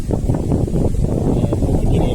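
Wind buffets the microphone outdoors beside the Sangu river ferry ghat in Banshkhali, a steady low rumbling roar that holds throughout with no clear rain pattering.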